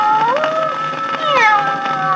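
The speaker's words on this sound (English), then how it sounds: "the cute little kittens in his own house." Kittens meow several times in a row, thin rising and falling cries layered over one another, close and clear against a faint hum with no talking.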